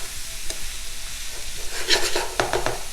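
Peas and broccoli stirred in a breakfast skillet with potatoes and zucchini, a gentle sizzle under a cluster of quick, close spatula scrapes and clacks toward the end.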